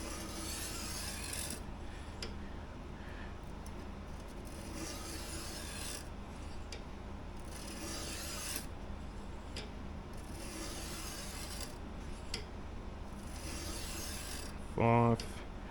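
A knife blade being sharpened on a 400 grit whetstone, with steady repeated rasping strokes in a quiet room and a brief voice near the end.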